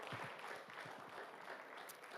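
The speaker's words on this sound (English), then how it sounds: "Let's give another round of applause for Dan Ayebare." Audience applause at an education event on Uganda, a short, even burst of many hands clapping that holds steady throughout, heard from within a hall.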